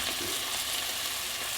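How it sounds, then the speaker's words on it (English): Chicken fries in a pan with a constant, dense sizzle and crackle, close and even throughout with no voices. "10 minutes frying the chicken"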